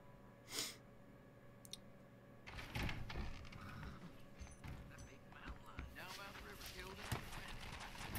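Horse hooves clip-clop in Red Dead Redemption as a Hungarian Half-bred horse moves at a steady stride, the hoofbeats running through most of the stretch amid other game sounds, with voices at times.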